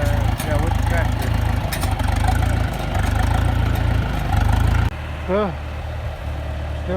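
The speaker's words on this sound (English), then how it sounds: "Yeah, with the tractor." A farm tractor's engine idles nearby with a steady low rumbling drone throughout. The drone drops slightly in level partway through, and a brief voice-like sound rises over it.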